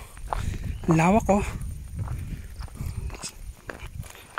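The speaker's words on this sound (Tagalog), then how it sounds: "So guys, naglalakad po ako." Footsteps on a steep road, soft scuffing steps repeating at a steady walking pace, close and fairly faint, with a person speaking briefly over them outdoors.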